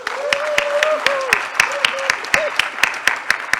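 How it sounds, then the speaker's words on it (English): Audience applause for presenters at a summit plenary session, a steady spread of claps under a voice speaking over it, moderately loud throughout. "Can we give them a round of applause?"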